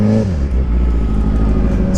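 A motorcycle riding through the streets of Solvang, California, with a loud, steady engine drone whose pitch drops as it shifts near the start, heavy wind rumble underneath and no talk.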